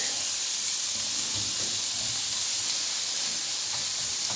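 Thin pieces of pork sizzle steadily in a frying pan with garlic, a continuous close hiss of hot oil running without pause and with no voices over it.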